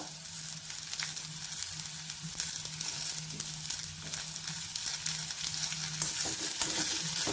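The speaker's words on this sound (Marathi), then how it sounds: "आता हे पण मुळा छान मऊ होईपर्यंत आपल्याला परतून घ्यायचं" Grated radish frying in a pan with lentils and asafoetida, a steady close sizzle with faint stirring scrapes running throughout.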